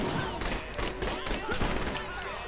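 Dense gunfire bursts out in Saints Row: The Third Remastered, with rapid overlapping shots and thuds under a loud continuous game backdrop and no clear gaps, keeping a sustained fusillade.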